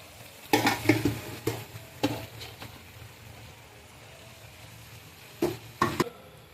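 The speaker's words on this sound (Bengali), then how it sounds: "এখন আমি আতপ চালের ভাত আমি আগে থেকে রান্না করে রেখেছিলাম, এখন আমি এটি দিয়ে দিব।" Cooked atap rice tipped into a pot of spiced meat for akhni biryani, with a few scraping, stirring knocks and a soft sizzle, close by, separated by quiet pauses.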